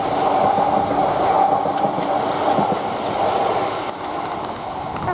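Class 450 passenger train passing through Queenstown Road station on the South Western Main Line, a steady rumble of wheels and rail clatter with some light squeal, moderately close, with no voices.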